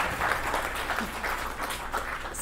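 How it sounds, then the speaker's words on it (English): An audience at a law school open day claps for invited legal guests, a short, moderately loud patter of applause with individual claps audible in the mix. "Yes, you can clap."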